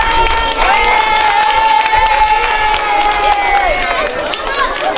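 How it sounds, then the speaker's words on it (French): Schoolchildren and adults applaud Gwendoline at the inauguration of new covered playgrounds at La Fontaine school in Le Raincy, a loud, steady burst of clapping mixed with crowd chatter and young voices, close and lively throughout. "On va applaudir Gwendoline."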